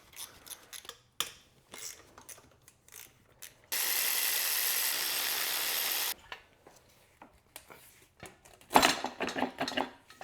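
A ratchet wrench works 13mm bolts off the intake manifold support bracket of a BMW E36 M3, with bursts of quick, close ratcheting clicks, a longer steady whirring stretch in the middle, and more clicking near the end.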